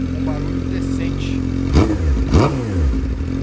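A Honda CB 600F Hornet motorcycle fitted with a diffuser exhaust idling loudly up close, then blipped twice in quick succession, each rev rising and falling with a rough, rumbling note.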